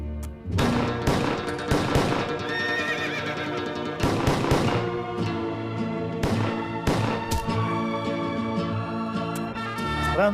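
In a Spanish-language western radio drama, a horse gives a loud, whinnying neigh, mixed with sharp gunfire-like bursts and music over about ten seconds.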